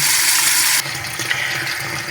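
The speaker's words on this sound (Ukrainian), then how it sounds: "виймаємо з води наші рулети і обов'язково занурюємо в ємність холодною водою" Water rushes loudly as wrapped meat rolls are lifted out of cooking water and plunged into a container of cold water, a steady gush that drops to a quieter sloshing partway through, close and without talk.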